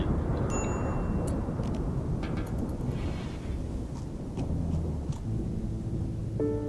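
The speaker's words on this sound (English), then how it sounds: "thunderstorm." A RimWorld thunderstorm gives a steady hiss of rain with low rumbling thunder, fairly quiet throughout, with a few faint game chimes near the end.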